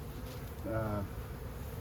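Honey bees buzzing during a swarm cutout from an owl house on a hot day, a steady droning hum that swells briefly near the middle, with a faint voice in the background.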